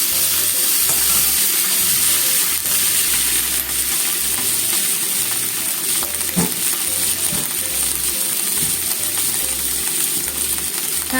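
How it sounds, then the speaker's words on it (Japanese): Cabbage stir-fries in a hot pan with a loud, continuous sizzle, and a spatula scrapes and tosses it at a close, steady pace. "キャベツ炒めます。"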